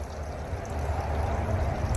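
Water in a small stream feeding a garden pond, a steady close-up gurgle and rush that runs continuously without any speech.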